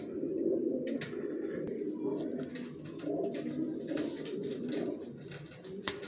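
Grizzle pigeons coo in a low, continuous rolling murmur, several birds overlapping close by, with a few faint clicks and rustles above.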